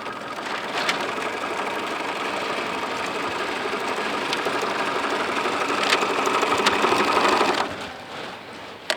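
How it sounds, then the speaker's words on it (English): Sewing machine running steadily as it back-stitches a seam in a Tyvek gown, a continuous close mechanical whir with fine rapid needle ticking, stopping near the end with a small click. "So I'm going to stitch it. I back stitch on every stitch just so that they don't tear it"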